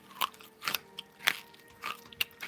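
A crunchy candy cane being bitten, several sharp close crunching bites spaced roughly half a second apart, each with brittle cracking, no talk.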